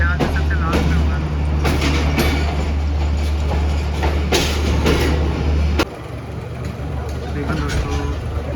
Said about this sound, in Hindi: ट्रेन हमारी निकल चुकी है वज़ीराबाद जंक्शन से 10:10 पर